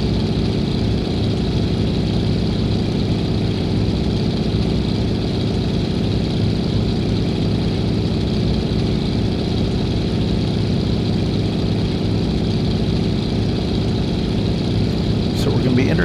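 Propeller engine of a DHC-2 Beaver at climb power in a flight simulator, a steady, loud, unbroken drone with a deep low rumble that holds constant throughout.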